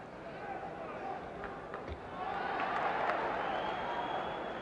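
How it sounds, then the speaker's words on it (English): A boxing arena crowd swells into a sustained ovation for heavyweight Floyd Patterson during his 1972 bout with Oscar Bonavena, a broad rising roar of cheers and applause with scattered shouts. "Patterson should be inspired by the ovation he got here tonight"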